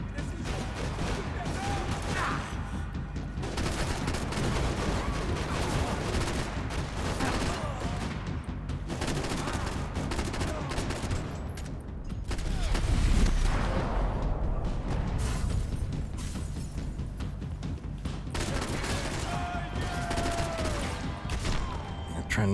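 Dense, continuous gunfire from the video game Max Payne 3, with rapid overlapping shots forming a steady roar and a heavier boom near the middle, loud throughout.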